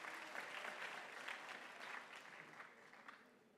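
Audience applause at a University of Limpopo graduation ceremony, steady dense clapping from a large crowd through the whole stretch, fading slightly toward the end.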